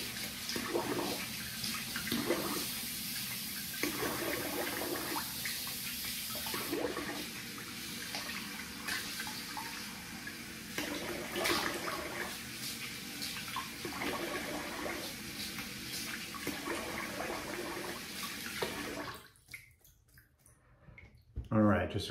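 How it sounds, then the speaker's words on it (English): Running tap water while a man rinses his face after shaving, a steady close splash and flow lasting most of the stretch before cutting off, with a voice talking over it. "I'm gonna rinse the face here."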